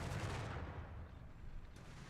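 Mortar fire in the World War II strategy game Company of Heroes 3 on a competitive match map, rolling low booms and rumbling blasts that fade into a steady distant battlefield din, with no voices.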